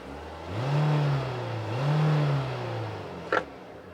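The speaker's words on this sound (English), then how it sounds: "just listen to this exhaust note a little bit" The small four-cylinder engine of a Kawasaki Ridge side-by-side in neutral revs up twice in smooth rising swells through its exhaust, then settles back to idle, ending with a brief clunk.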